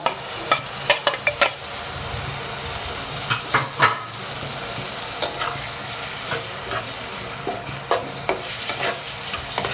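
Chopped egg pieces being stirred through sizzling masala in a pan give a constant frying hiss, broken by irregular scraping clicks of the spoon against the pan, close and steady, with no talking.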